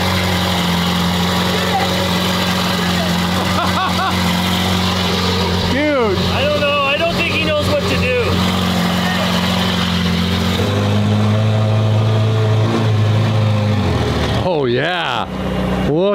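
A red car's engine runs at a steady idle after starting, a constant low hum that sits under people talking nearby.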